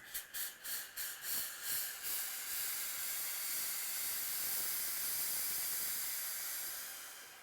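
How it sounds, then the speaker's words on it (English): Industrial pressing iron venting a long, steady hiss of steam, opening with a few quick pulsed bursts before settling into a continuous close spray that slowly fades at the end. "They have a button on the handle for steam."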